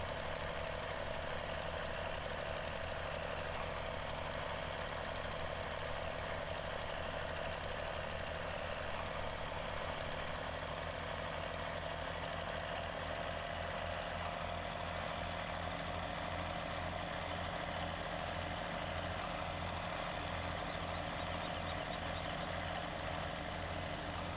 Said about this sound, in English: I think this tractor's got good brakes. I'd hate to stop on this hill with this fertilizer spreader.